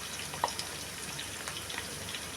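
Garlic paste and ginger paste frying in a pan of hot oil, a soft continuous crackling sizzle with a few sharper pops, quiet and steady with no voices.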